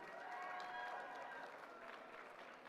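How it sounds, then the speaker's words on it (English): Audience applause for a judge at the Miss Indian World pageant during the Gathering of Nations Pow Wow, a fairly faint, steady wash of clapping from a crowd with some tonal background and murmur, fading slightly toward the end. "Big round of applause for Nasheen Sleuth"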